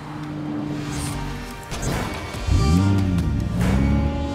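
A Nissan GT-R drives with a steady engine tone that rises and swells in pitch partway through, loud and near, with wind and road noise underneath.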